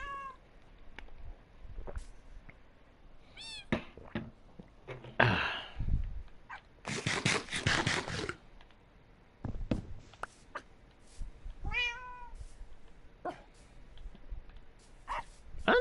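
Cats meow repeatedly in Minecraft, short high calls scattered among dog barks, a brief loud hiss and a burst of noise, fairly close and with no talking.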